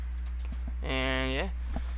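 A password being typed on a computer keyboard while installing games in Ubuntu Linux: a few quiet, scattered key clicks, with a voice briefly heard in the middle.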